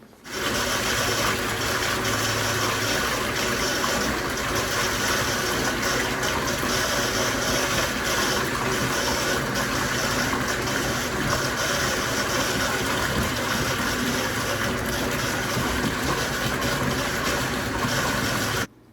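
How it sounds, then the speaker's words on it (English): Whirlpool bathtub jets churn in a filled tub loaded with cleaner for a deep clean of the jet system, a loud, steady rushing and pumping roar that holds unbroken for the whole stretch. "I've got the jets on now because it's reached that level."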